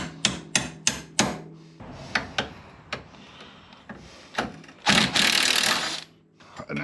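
Ratchet wrench working a rusty, corroded bolt on a Can-Am, heard as a series of sharp clicks and clacks in bursts, with a louder sustained grinding stretch near the end.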